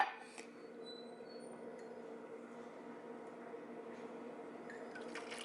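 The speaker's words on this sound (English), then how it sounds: "So I'm going to pour a 1/4 a cup into my mug." Tea being poured into a mug, a steady quiet liquid stream lasting several seconds, low and even, with no talking.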